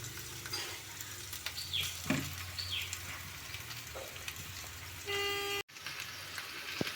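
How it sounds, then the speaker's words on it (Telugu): Ivy gourds fry with masala paste in a pan, a steady sizzle with occasional stirring scrapes and a brief horn-like tone before a short dropout, no voices. "ఇప్పుడు మనం ముందుగా పేస్ట్ పట్టించిన మసాలా పేస్ట్ని ఈ దొండకాయలు వేసుకుందాం"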